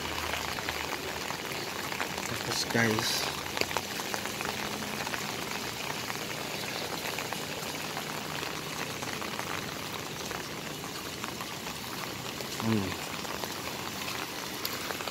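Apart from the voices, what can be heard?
very heavy rain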